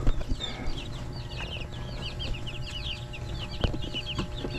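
Five-day-old broiler chicks chirp in a busy chorus of rapid, overlapping high peeps, close by, with occasional soft wing flutters and bumps.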